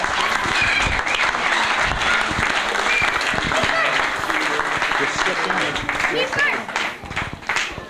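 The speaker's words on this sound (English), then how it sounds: "I think they deserve a round of applause for what they've done" Guests at a weekend family celebration break into loud, sustained applause, close and continuous, with voices and cheers mixed into the clapping.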